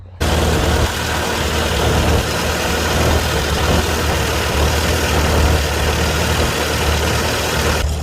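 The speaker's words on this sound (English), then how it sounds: "we're going to fire it up and just see what we got" A Farmall Super C tractor engine, roughly 24 horsepower, catches after a brief moment and then idles loud and close, a steady rough low rumble with no voices over it.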